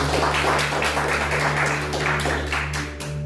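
A church congregation claps their hands together in praise, a dense, steady wash of many palms with a faint musical hum underneath, fading slightly at the end.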